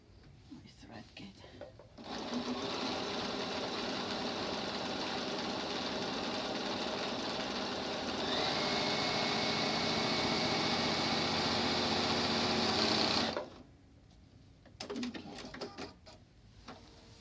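A sewing machine stitches an X with pink thread on a quilt, a continuous fast whirring hum that runs for about eleven seconds and gets a bit brighter midway, with quiet talk before and after.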